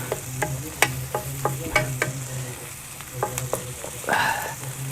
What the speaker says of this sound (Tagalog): Kaya bago pa mag-brown, ilagay mo na yung sibuyas.